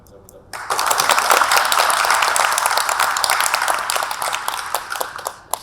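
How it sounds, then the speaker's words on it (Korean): At the close of an urban architecture forum at the 2023 Sejong Architecture Culture Festival, a brief spoken phrase gives way to a full round of audience clapping that swells quickly, holds, then thins toward the end. "박수로 오늘 이 건축문화제 도시건축 포럼을 마무리하겠습니다"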